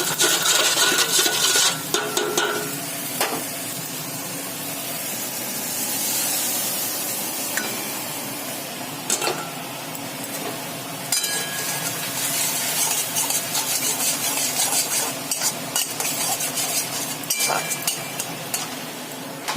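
Spices sizzling and frying in a pan with browned onion for Bengali rui fish kaliya, a steady loud hiss with sharp crackles and spray-like bursts, plus occasional utensil scrapes, without talk.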